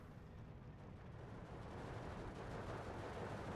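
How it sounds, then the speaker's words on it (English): An off-map 152 artillery strike lands in Steel Division 2 as a dense, steady roar of distant blasts and rumbling fire that slowly swells over several seconds. "there's 152 off map coming on in to drop artillery"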